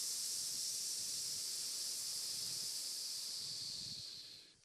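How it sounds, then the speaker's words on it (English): A person breathing out slowly in a long, steady, snake-like hiss during a breathing exercise at a talk, one sustained exhale that fades away at the end. "and then like a snake say tss."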